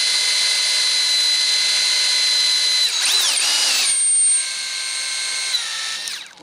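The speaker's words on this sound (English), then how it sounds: "okay, time to drill the other one." A power drill whines at a high, steady pitch, then dips and revs as it bites in, slowing and stopping at the end.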